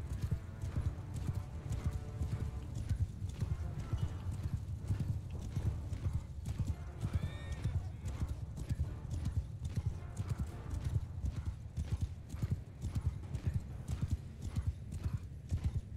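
Horses' hooves clip-clop steadily and dense in the Mount & Blade II: Bannerlord video game, many animals moving together close by, with a brief whinny partway through and no talk over it.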